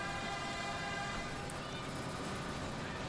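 The St Kitts scenic train rolls along the island's southwest coast, a continuous loud rumble and clatter of the railcars with a steady tonal hum running through it, close and unbroken, with no clear talk.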